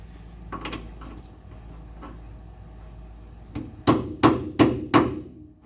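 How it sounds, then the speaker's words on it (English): Four sharp metallic blows ring out in quick succession as a part is hammered out with a socket on a 1970 VW Bus, after a few softer knocks and fumbling sounds. "I wonder if I can pound that up out of there if I have a socket"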